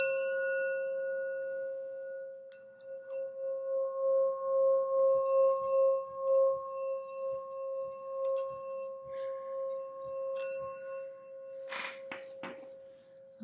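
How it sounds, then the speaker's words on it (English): A singing sound bowl is struck once and then hums with a steady, pure sustained tone that rings on for many seconds, with soft rustling and a brief clatter near the end. "I'm going to ring the sound bowl."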